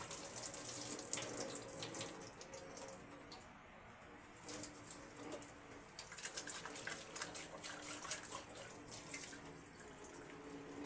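Water runs from a tap in a home kitchen in the morning, a bright splashing stream that pauses briefly midway and then resumes, irregular and close, with faint background sounds.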